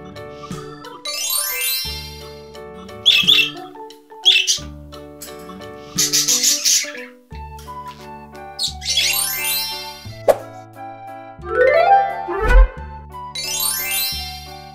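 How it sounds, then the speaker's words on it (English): Cartoon parrot squawking and chirping in a children's animal-sound piece, with bright, repeated calls and rapid chirps set among tinkling jingles and musical tones, loud and close. "Parrot."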